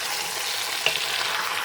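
Chicken browns in a pan for a chicken tajine, giving a steady, even sizzle of frying with one brief soft clink partway through.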